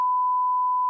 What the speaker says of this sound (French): il était tellement long le bip